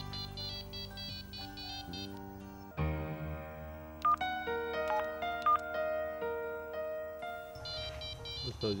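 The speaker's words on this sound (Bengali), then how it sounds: "ফোন বাজে, ফোন ধরো" A phone rings with an electronic melodic ringtone, bright repeating tones running continuously without talk.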